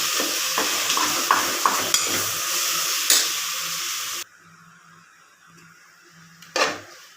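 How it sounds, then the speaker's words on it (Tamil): Mushrooms sautéing in a pan for a biryani, a loud steady sizzle with spoon scrapes that drops abruptly to a quiet hiss, then one more clattering stir. "இப்போ காளான் நம்ம போட்டுக்கலாம். இப்போ இது நல்லா வதங்கணும்."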